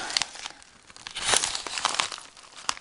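Paper packaging of a small kawaii haul is crinkled and torn open close up, bursts of crackling and ripping in an uneven rhythm, with no talk.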